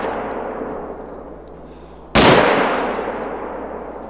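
A single sharp rifle shot cracks out loud and close while hunting ibex in TheHunter: Call of the Wild, ringing off into a fading tail after quiet ambient outdoor background.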